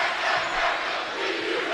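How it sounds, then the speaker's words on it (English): Basketball crowd at a Newell-Fonda Class 1A boys postseason game voicing displeasure at a walking call, a broad, steady roar of many voices sustained throughout the short stretch without any announcer speech. "The Newell-Fonda crowd does not like that call."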